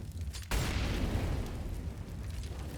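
A grenade explodes in Counter-Strike on the Cobblestone map, a sudden loud boom followed by a long rumbling decay that fills the rest of the moment.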